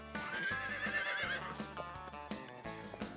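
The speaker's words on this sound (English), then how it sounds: "Horses are amazing animals." A horse neighs in a long, loud, quavering whinny that rises and falls, with soft clip-clop hoofbeats continuing beneath it.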